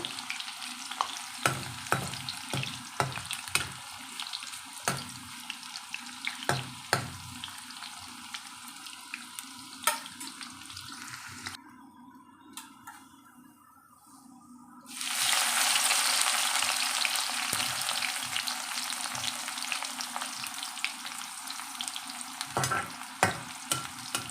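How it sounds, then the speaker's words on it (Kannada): Bitter gourd frying in a pan gives a steady sizzle, with clicks from stirring. A brief quiet spell near the middle gives way to a louder, fuller crackle that holds to the end, close by and with no talk. "ಸ್ವಲ್ಪ ಸ್ವಲ್ಪನೇ ಹಾಕೊಂಡು ಫ್ರೈ ಮಾಡ್ಕೋಬೇಕು ಜಾಸ್ತಿ ಹಾಕೋಬಾರ್ದು ಯಾಕಂದರೆ ಕರೆಕ್ಟಾಗಿ ಫ್ರೈ ಆಗಲ್ಲ"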